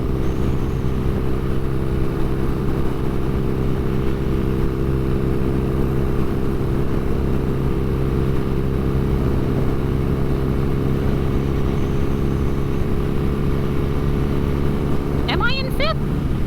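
An old motorcycle engine drones steadily while being ridden, a dense, constant mid-range hum with wind rush, close and loud throughout, with a brief higher whine near the end.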